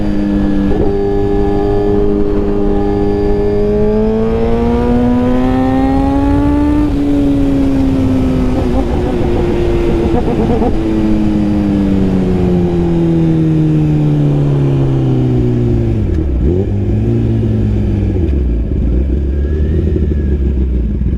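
A 2021 Suzuki GSX-R1000R fitted with a Brocks full exhaust is ridden at speed, its engine note climbing and dropping through gear changes, loud and close, mixed with steady wind roar and no talking.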